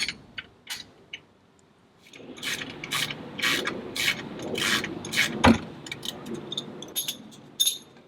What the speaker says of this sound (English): so I'm just going to use a spanner for this one.